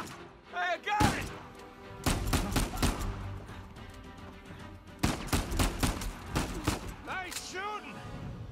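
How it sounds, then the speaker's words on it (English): Gunfire in Uncharted 4, loud bursts of rapid shots in two clusters separated by quieter gaps, with characters' voices talking between the volleys. "Nice shooting!"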